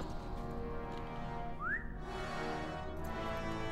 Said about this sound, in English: Did you hear that whistle echo?